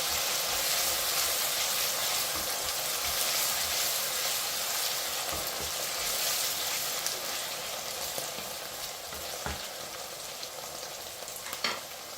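Green chillies, rampe and curry leaves crackle and sizzle in hot oil in a frying pan for Jaffna-style intestine curry, a steady, dense hiss throughout with occasional louder pops and stirring clicks, no voices.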